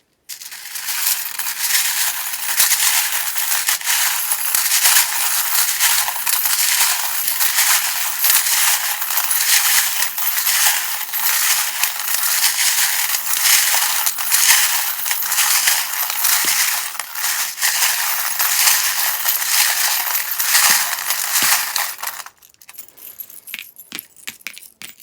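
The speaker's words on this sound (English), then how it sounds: "If you don't like the sound of the charms, best to turn down your device volume while I shuffle them." Tarot charms being shuffled: a dense, continuous metallic jangle and clatter of small trinkets, loud and close, running for over twenty seconds before dropping to a few scattered clinks.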